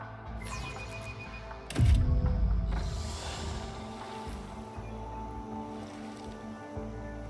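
A waterfall in Warhammer 40K Rogue Trader gives a steady rushing, splashing wash of running water throughout, swelling with a heavy low surge near the start before settling into a continuous roar.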